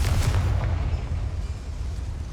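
Fiery Confringo spell blast in Hogwarts Legacy inside a mine, a loud booming burst at the start that rumbles and fades.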